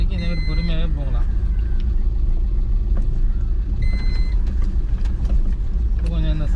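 A car rolls slowly along a bumpy, potholed village road, its engine and road rumble running steady and close throughout while someone talks over it.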